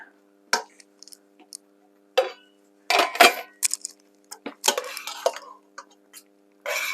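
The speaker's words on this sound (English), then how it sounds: "in goes our bacon and onion. Toss that through." Bacon and onion tossed in a hot pan, giving a few scattered clatters and scrapes of metal and utensil in uneven bursts, close and fairly loud, with quiet pauses between them.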